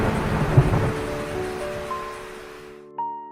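Thunder rumbles through a lightning storm, a broad low roll that fades over a few seconds before a faint tonal sting sounds at the end, with no voices.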